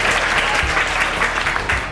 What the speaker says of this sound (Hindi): तालियां बजाओ भाई दादा जान के लिए